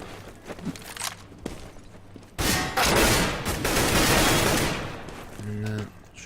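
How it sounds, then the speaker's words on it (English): Rapid automatic gunfire and single shots from the game CS:GO on the de_dust2 map at a professional tournament match, dense bursts under a caster's excited commentary, with footsteps between volleys. "And Shox will shoot down Kusha there."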